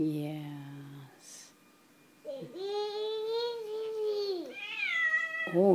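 A kitten meows in a series of rising and falling cries, the longer calls drawn out and clear, close by, with a voice heard briefly before them.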